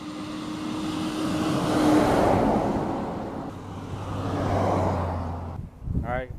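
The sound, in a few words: truck passing by on the road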